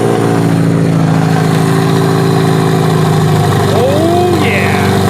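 Lexus car engine running and idling after repairs to its computer, alternator, fuel pump and starter, a loud close steady hum with a brief rev near the end.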